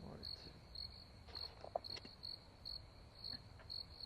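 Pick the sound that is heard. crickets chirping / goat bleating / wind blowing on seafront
crickets chirping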